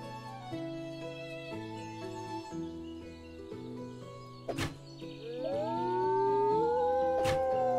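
A wolf in the video game Medieval Dynasty gives a long rising howl over soft background music, starting quietly and swelling louder toward the end, with a couple of sharp thuds along the way.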